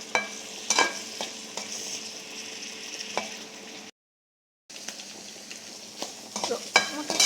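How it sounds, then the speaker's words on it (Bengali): Fish, onion, prawns and potato fry together in hot oil with a steady close sizzle, broken by stirring scrapes and clinks, dropping to silence for a moment midway before the crackle resumes. "আমি মাছ, পেঁয়াজ আর চিংড়ি মাছ, এই আলুটা একসাথে নিয়ে তখন ভেজে নিব।"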